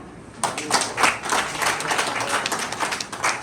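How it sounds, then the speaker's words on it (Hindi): A crowd at a Hindi-language political gathering claps for a mayor's mother, the applause beginning suddenly after a quiet moment and continuing as dense, uneven clapping nearby. "उनकी माता जी हमारे बीच में आई है, इनके लिए तालियां"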